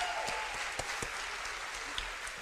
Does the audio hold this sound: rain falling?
no